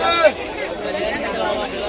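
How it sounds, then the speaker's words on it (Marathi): Dense crowd chatter fills a busy, crowded street market in Mumbai, many overlapping voices forming a loud, steady babble close around. "गर्दी तर तुफान आहे तुफान"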